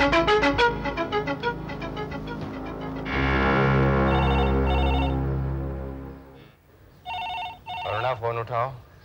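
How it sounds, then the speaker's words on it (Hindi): A telephone rings with a repeating electronic ringtone melody, loud and close, with people talking over and around the ringing. "फोन उठाओ।"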